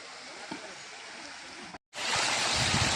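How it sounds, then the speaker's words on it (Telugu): Steady rushing water roars throughout, briefly dropping out, then returning louder and fuller, a waterfall pouring down from the hills nearby, beside a temple tank. "ఈ వాటర్ ఫాల్ చూడండి పైన కొండలో నుంచి పడుతున్నాయి"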